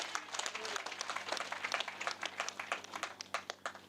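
An audience claps at a church house-opening event, giving a scattered round of hand claps with sharp individual slaps that are fairly faint and distant, over a low steady hum.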